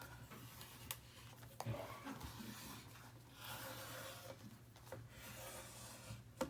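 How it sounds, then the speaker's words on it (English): Paper being burnished for a scrapbook mini album, a soft, steady rubbing and rasping close by with a few light taps, quiet and with no voices. "Burnish really well."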